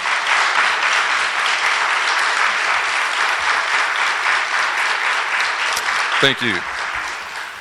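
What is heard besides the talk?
audience applause at graduation ceremony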